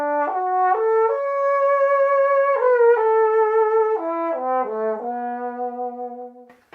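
A modern Conn tenor trombone plays a short melodic phrase of sustained, stepped notes with rich harmonics, close and clear in a room, with no talking.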